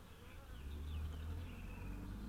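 A honeybee swarm gathering at a hive gives a steady, low, faint buzzing drone of many bees.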